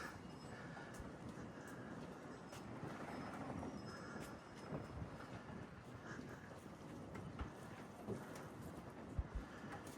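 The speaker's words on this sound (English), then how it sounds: "It's turned out to be a beautiful day, although really windy and blustery." Gusty wind roars and buffets steadily on a boat at a marina in Mystic, Connecticut, a low rumbling rush with brief bumps and creaks, fairly quiet and without speech.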